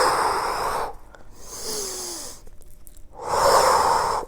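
Forceful exhaled breaths from a person doing a Pilates single leg stretch, three breathy bursts spaced by short pauses, close to the mic.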